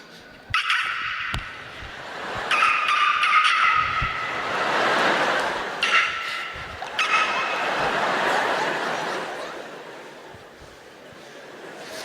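A voice imitates squeaky basketball shoes on a court with a run of high, sharp squeals and skids in bursts, loud and close, with no talking.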